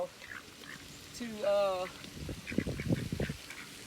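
Ducks being fed quack in a short harmonic burst mid-clip, followed by a rapid run of lower honking calls; a single spoken word is heard briefly near the start.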